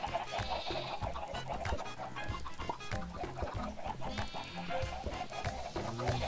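Chickens in Minecraft cluck in quick, busy bursts mixed with other bleating farm-animal calls, a dense, continuous clamour at moderate volume.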